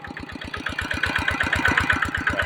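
A small ET95 engine runs steadily while driving a water pump, chugging in a fast, even beat of close, loud firing pulses with a rattly mechanical edge.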